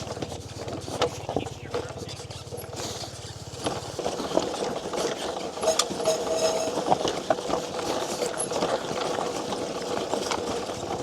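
A NIU XQi3 72V electric dirt bike grinds over rough, gnarly terrain with its rear tire dragging: a continuous motor whine under rattling, bumping and scraping, close and fairly loud throughout.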